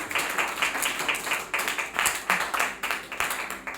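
A church congregation claps together in praise, a close run of rhythmic, irregular bursts of many hands with faint voices mixed in.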